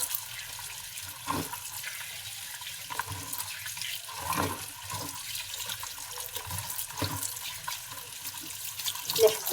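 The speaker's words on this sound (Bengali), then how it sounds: "ঢাকনাটা সুন্দর করে ধুয়ে নিচ্ছি" A pot lid is rinsed under running water at a kitchen sink, with a soft steady trickle broken by clinks and sloshing scrubs. A voice talks faintly over parts of it.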